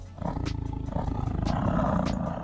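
A tiger growls and roars in a Minecraft zoo, a throaty, rapidly pulsing rumble that swells and holds for a couple of seconds, close and fairly loud, with a few sharp clicks over it.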